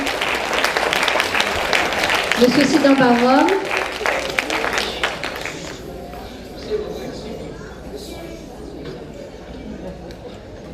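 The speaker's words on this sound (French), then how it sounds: "que je vous demande d'applaudir." Audience applause for guests called up at an award ceremony, loud clapping over the first half with a voice speaking over it, then fading to scattered claps and murmur.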